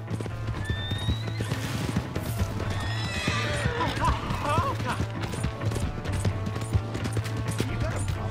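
A horse in Red Dead Redemption 2 whinnies loudly in the middle of the clip over steady, close hoof clip-clop, with game ambience and a voice talking in the background.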